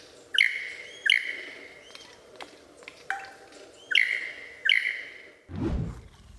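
Bright, sharp lyrebird calls ring out in bursts, several loud chirping phrases with pauses between them, ending in a low rumbling whoosh.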